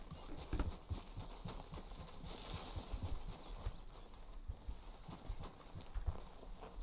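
Hooves of a Tennessee Walker horse clip-clopping in the Red Dead Redemption 2 game, a steady walking rhythm of soft thuds close by, with a brief faint whinny-like sound and no talk.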